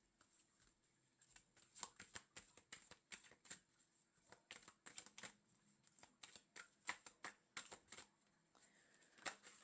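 Tarot cards being shuffled in quick riffling bursts, a dense run of crisp papery flutters and snaps repeating irregularly throughout, close and clear with no talking.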